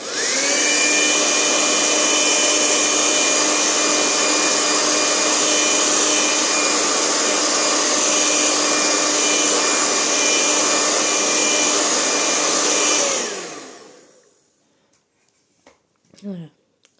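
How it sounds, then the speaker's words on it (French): A hair dryer blows steadily on watercolor paint for about thirteen seconds, a loud continuous whooshing whine, then winds down and cuts off, followed by a few faint brief knocks. "Un dernier petit coup de sèche-cheveux."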